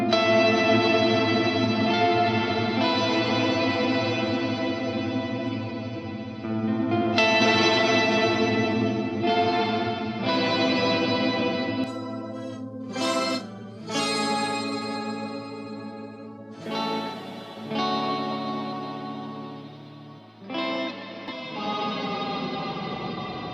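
Sustained layered tones drenched in heavy reverb from a free JSFX reverb plugin in Reaper, with chorus, long washy tails and a few sharp swells, loud and continuous with no talking.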